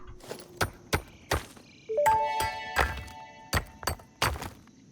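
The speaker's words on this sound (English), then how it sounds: "Press E to start mining iron ore." Pickaxe mining of iron ore in the video game Satisfactory, with several sharp, separate thunking strikes spaced unevenly at close range, and a bright ringing, chiming tone rising midway as the ore is gathered.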